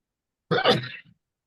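A single abrupt sneeze-like burst from a person in a quiet room, sharp onset then a short tail and a faint trailing breath, fairly close and alone.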